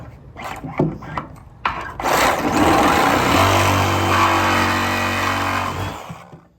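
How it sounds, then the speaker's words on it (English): A power saw with a fine-toothed metal blade cuts out a bolt in a wooden trailer deck, loud and close: a few short starts, then a sustained grinding whine for several seconds before stopping. "I'm gonna be cutting out that bolt."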